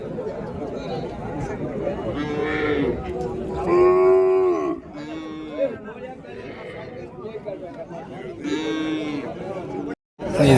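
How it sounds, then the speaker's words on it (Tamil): Native cattle low repeatedly at a busy cow market in Matrapalli, long drawn-out moos rising over a constant murmur of crowd chatter and nearby voices. "இதுவும் நாட்டு மாடுங்க."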